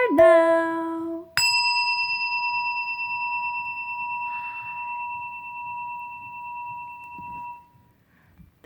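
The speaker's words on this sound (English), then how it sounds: "That was my Japanese tone bell." A Japanese tone bell is struck once, giving a bright ringing tone with clean sustained harmonics that fades slowly over several seconds, preceded by a brief lower tone.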